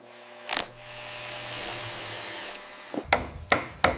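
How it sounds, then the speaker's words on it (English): A hollow chisel mortiser plunging into wood to cut a furniture joint socket, giving a steady machine whir with a sharp knock at the start and a few rapid clunks near the end, in a factory setting. "Hollow chisel mortisers plunge into the wood to create the matching socket."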